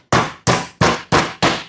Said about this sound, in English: So I'm going to use this hammer, this kitchen hammer, and beat the meat.